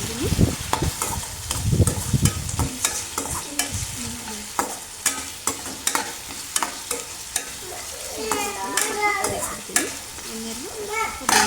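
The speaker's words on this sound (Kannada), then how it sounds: "ಹಾಕ್ಕೊಂಡು ಚೆನ್ನಾಗಿ ಮಿಕ್ಸ್ ಮಾಡ್ಕೊಳ್ತಾ ಇದ್ದೀನಿ" Masala, turmeric and salt get stirred into frying oil for chitranna, a busy close sizzle with rapid scraping spoon strokes throughout and brief background voices near the end.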